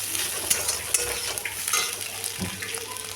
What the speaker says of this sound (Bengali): ভেজে রাখা যে আলুগুলো ছিল সেই আলুগুলো দিয়ে দিয়েছি